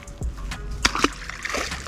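A released bass drops back into the lake with a couple of short, close splashes, followed by light water sloshing.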